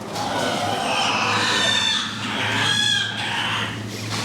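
Chickens and a rooster at a poultry and rabbit show exposition, a mix of clucks and calls from several birds nearby over a steady hall hum, with no clear talk.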